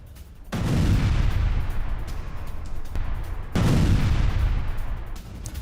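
Two heavy blasts from a drone strike on Ukrainian weapons boom out in turn, each a sharp, loud onset followed by a long rumbling roar that fades slowly.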